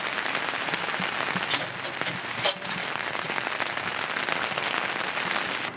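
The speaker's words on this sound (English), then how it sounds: "It's really windy and it's really rainy outside, but it's great to be outdoors." Heavy rain and wind beat on a hot tent during family camping: a dense, steady hiss of drops drumming on the fabric, with a few sharper gusts or hits standing out above the constant wash.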